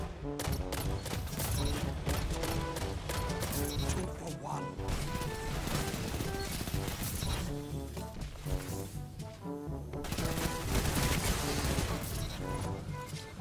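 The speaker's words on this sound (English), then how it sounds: "Good old SMG." Rapid SMG gunfire in the video game Destiny 2, dense sustained bursts of shots layered over game sound effects and music, loud and continuous.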